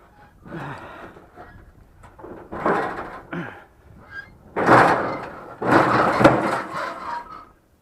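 A door is worked open and shut over and over, giving a run of loud knocks, scrapes and slams in irregular bursts that grow heavier toward the end, close by and with no voices.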